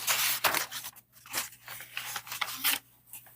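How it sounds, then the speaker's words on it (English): Paper rustling and shuffling during a game show, with dry crinkling and scraping bursts coming in irregular clusters, close and fairly loud, separated by short quiet gaps. "there's a lot of paper shuffling"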